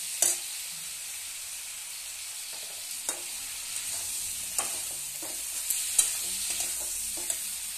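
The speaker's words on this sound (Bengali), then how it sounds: "কম আছে, কিছুক্ষণ ভাজবো।" Food with turmeric fries in a pan, giving a soft steady sizzle with occasional sharp clicks and scrapes from stirring, fairly quiet and close.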